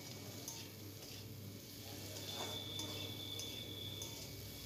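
Pre-boiled potatoes fry in a pan, a soft, even sizzle running throughout, with faint scraping stirs and occasional light ticks from a spatula.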